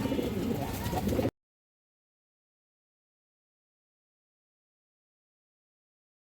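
Pigeons coo briefly around a female pigeon held for sale, a short burst of soft, throaty calling up close that cuts off abruptly into silence.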